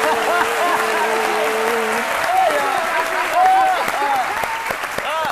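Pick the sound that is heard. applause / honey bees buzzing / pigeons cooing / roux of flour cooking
applause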